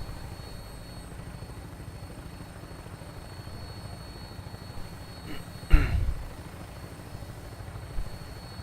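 A Vertibird aircraft arrives in Fallout 4 with a continuous thudding rotor beat under a rumbling engine, joined midway by a brief louder burst.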